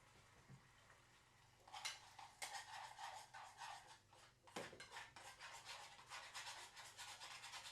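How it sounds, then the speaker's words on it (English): A spoon stirs a pot of spicy food seasoned with okra, scorpion, cayenne and jalapeno peppers, giving repeated close scraping and rubbing strokes that start after a quiet opening, pause briefly, then carry on steadily. "Give it a wee stir."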